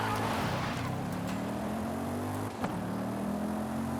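Race car engine in the Forza Horizon 5 video game, droning steadily through a race with rising and falling pitch as it accelerates and shifts, then it stays near and continuous.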